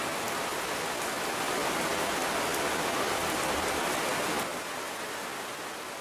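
Steady, dense rain hisses evenly throughout, a broad wash of falling drops that eases slightly toward the end.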